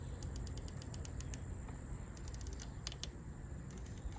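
Windage turret on a Sig Sauer Romeo 5X red dot sight being turned, a quick series of small crisp clicks in bursts over faint background hiss, close and quiet.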